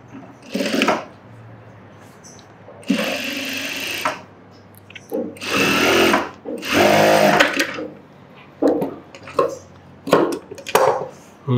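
Sewing machine running a quick rough seam joining fabric pieces, in several loud bursts of motor whirring separated by short pauses, close up with no talking.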